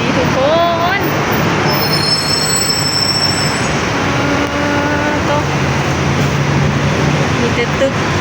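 Slow-moving, jammed traffic on a Bangkok road fills the air with a dense, continuous rumble, with high brake squeals rising briefly above the steady noise.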